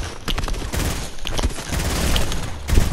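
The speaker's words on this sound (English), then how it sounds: "He has an SMG." Dense, rapid SMG spray bursts in a Fortnite match, close and loud, with sustained automatic fire filling the clip and a few heavier impacts near the end.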